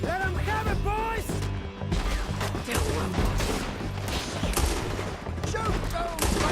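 Rapid gunfire rattles through a Red Dead Redemption 2 town shootout, with overlapping shots and bursts under shouted voices.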